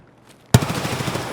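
A gunshot in the Escape From Tarkov video game cracks out suddenly after near silence and leaves a loud, echoing tail that decays slowly.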